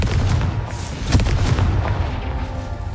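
A Confringo fire spell fired in the Hogwarts Legacy video game, a loud, dense fiery blast with a sharp crack near the middle, booming and continuous over the whole stretch.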